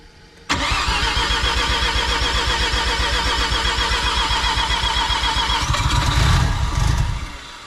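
Big-turbo semi-peripheral-port Mazda FD RX7 rotary engine cranks and fires up after a half-second of quiet, settling into a loud, choppy high idle near the mic, then a brief rev before dropping back.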